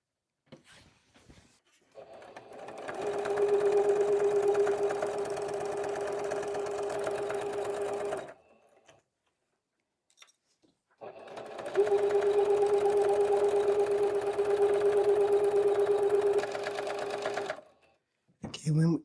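A sewing machine stitches binding on a quilt-as-you-go project in two long steady runs of rapid whirring, each lasting several seconds, separated by a quiet pause with faint handling sounds.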